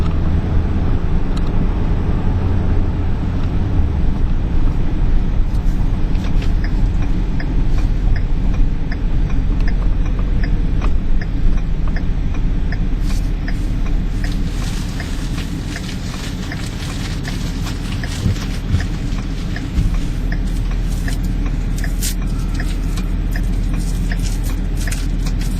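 A 2011 Ford F250 Super Duty King Ranch pickup driving on a rough road, heard from inside as a steady low road rumble and engine drone with occasional small knocks and rattles, no talk.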